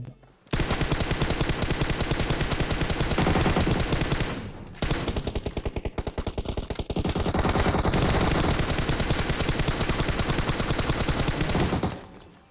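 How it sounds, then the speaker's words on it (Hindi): Sustained automatic gunfire in the mobile battle royale game PUBG Mobile: rapid, loud bursts rattle almost without pause across the stretch, with a brief break partway through. "वो बंदा छत के ऊपर से सीढ़ियों के ऊपर से गोलियां पेला होता है"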